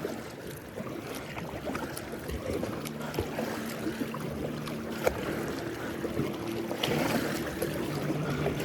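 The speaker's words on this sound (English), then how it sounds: "This wake boat's coming right at me." Wake boat engine approaching across a lake, a steady low motor drone with harmonic hum rising slightly in loudness, under wind noise and faint water sounds.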